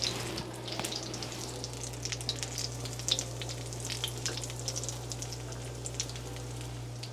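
Breaded chicken breasts fry in a hot pan for crispy chicken parmesan, making a soft, even, continuous crackle with scattered pops and no speech.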